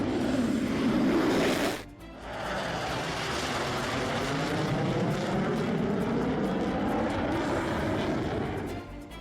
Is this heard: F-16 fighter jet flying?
yes